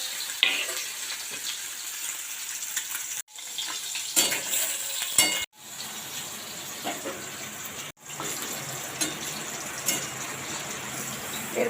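Hilsa fish lightly frying in hot oil in a wok, a steady broad crackling sizzle that runs loud and close for the whole stretch, cut by a few brief gaps and sharper spatters.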